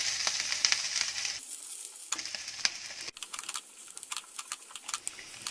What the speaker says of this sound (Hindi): प्याज और कैप्सिकम को भूनते 2-3 मिनट हो चुके हैं।